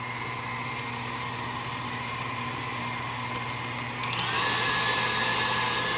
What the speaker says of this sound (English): So as of right now, I'm blending this